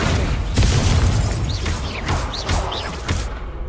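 The Incendio fire spell in Hogwarts Legacy gives loud booming bursts and crackling blasts, layered with whooshing magical effects, packed into a few seconds of dense game action.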